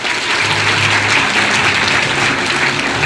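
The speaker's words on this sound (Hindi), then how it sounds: "तालियों की सेवा के साथ" Audience applause at a Hindu Bhagwat katha religious discourse, a dense, steady wash of many hands clapping that holds evenly for about three seconds with no talk over it.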